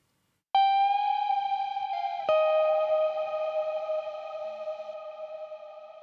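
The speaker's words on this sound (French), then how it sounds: "c'est un son très électrique avec énormément de reverb" Clean electric guitar notes ring out with sustained harmonics and a long reverb tail, a second note struck partway through, alone with no voices.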